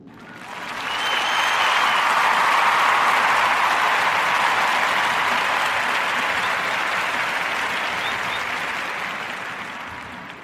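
An audience claps for Brother Zion's accomplishment: a sustained, dense round of applause that swells in quickly, holds steady for several seconds, then tapers off, with no voices over it.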